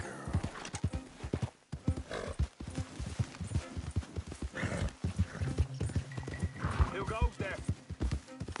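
Horse hooves clip-clop in a steady close rhythm, with a whinny breaking through partway and a person speaking quietly over the hoofbeats.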